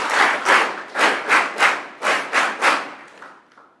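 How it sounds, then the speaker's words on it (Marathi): An audience claps loudly in a hall, with rhythmic waves of applause that swell and fade in about eight pulses, then taper off to a few scattered claps. "एकदा जोरदार टाळ्या वाजवायच्या आहेत"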